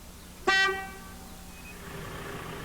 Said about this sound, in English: In front of that is the horn button.